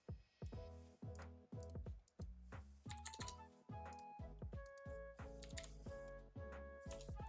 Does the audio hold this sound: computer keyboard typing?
yes